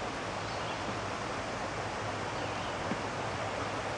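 Water pours over a spillway on a nature walk at a wildlife sanctuary, heard as a soft, steady, even rush of broadband noise with no voices.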